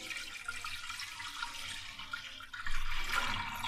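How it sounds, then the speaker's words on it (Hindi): Full cream milk poured into a pot for rice kheer, a continuous close liquid pour that grows fuller and louder toward the end. "एक बर्तन में हमने दूध डालना है। ये फुल क्रीम मिल्क दूध है।"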